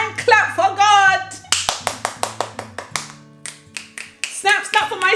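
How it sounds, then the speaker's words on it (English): A run of sharp hand claps, spaced rhythmically and close to the microphone, with a person talking and making vocal sounds over and between them, set against a low held musical tone. "Hand clap for God."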